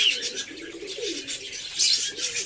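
Pigeons coo in a soft, continuous rolling murmur close by, with a few light chirps mixed in and no talking.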